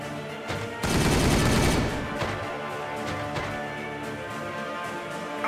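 Sustained gunfire from a Warhammer 40,000 Regicide battle erupts in a dense, loud volley, then gives way to a continuing crackle of shots and impacts over the game's soundtrack.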